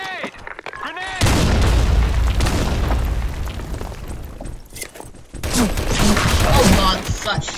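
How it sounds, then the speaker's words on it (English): A grenade blows up in the online shooter Blackshot with a loud, sudden boom, followed by several seconds of heavy rumbling, gunfire and battle noise that swells again near the end. "Grenade!"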